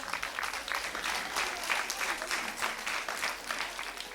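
A seated audience applauds a woman at the back of the hall, sustained crowd clapping with a few voices mixed in, fairly soft and continuous.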